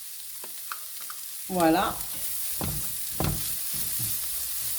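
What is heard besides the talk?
cauliflower mixture frying and sizzling in a pan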